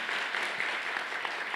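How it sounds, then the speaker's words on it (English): Brief, even applause from a conference audience honoring a professor, a moderately distant crowd clapping for under two seconds. "Please give my professor an amazing round of applause."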